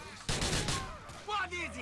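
Gunfire in the video game Grand Theft Auto IV: a couple of sharp, loud shots in quick succession, followed by a voice speaking.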